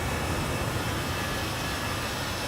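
Steady, loud engine drone of a Toliss A319 airliner in X-Plane 12 cruising near Budapest, a broad continuous roar with no change in level throughout.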